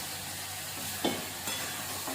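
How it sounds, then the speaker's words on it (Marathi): Eggplant pieces sauté in a pan with a soft, constant sizzle, broken by a few quiet scrapes and clinks of stirring, fairly faint and without talk. "छान असे परतवतच राहायचे ते वांगे पण"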